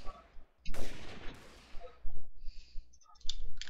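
Gunfire in a Minecraft shooting game, with bursts of bright broadband shots and a dense noisy volley, followed by sharper clicking reports and game sounds, loud and close.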